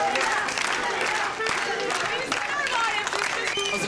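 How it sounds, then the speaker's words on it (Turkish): A small group claps in a scene from a Turkish comedy series, the applause continuous and moderately loud, mixed with overlapping voices throughout. "Alkış"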